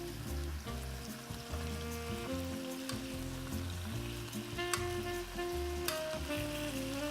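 Pork browning in oil in a hot frying pan gives a steady, close sizzle that crackles and spits throughout, with a few sharper pops standing out; no one speaks.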